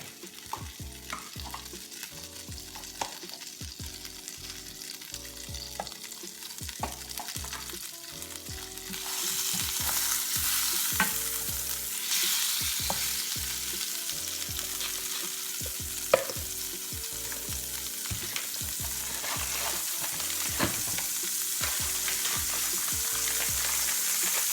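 Butter sizzles and fries in a hot pot while it melts, a dense crackling hiss that grows louder and brighter partway through, with occasional clinks and stirring sounds.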